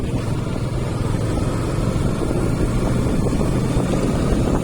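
A manual motorcycle engine droning steadily while riding, its low roar blended with heavy rushing wind noise and no distinct break for the shift to fourth gear, with no talk.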